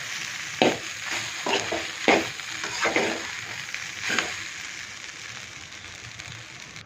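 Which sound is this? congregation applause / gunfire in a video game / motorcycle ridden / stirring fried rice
stirring fried rice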